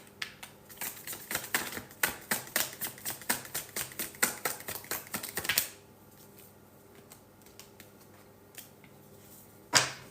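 Rapid clicking taps of cards being shuffled, a quick rhythmic run close by, then quiet with a single sharp snap at the end.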